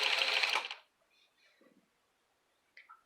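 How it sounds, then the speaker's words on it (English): A Singer Model 237 sewing machine turned by a Bishop Sewing Systems hand crank gives a loud, brief mechanical whirr that stops abruptly, followed by faint clicks and small knocks in near silence. "Bishop Sewing Systems hand crank on a Model 237."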